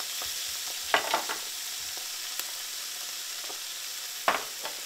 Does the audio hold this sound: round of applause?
no